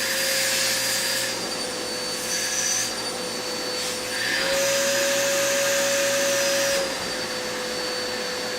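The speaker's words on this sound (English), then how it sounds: "It's the last time I'll use the vacuum, I guess. Just suck out this port." A vacuum cleaner whines loudly and steadily up close as it sucks dust from an Xbox One port, its pitch shifting slightly as the nozzle seals against and lifts off the opening.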